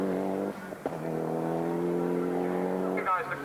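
A Mitsubishi Galant VR4 rally car's engine holds a steady, loud, near drone with a brief blip early on and a rise in pitch near the end.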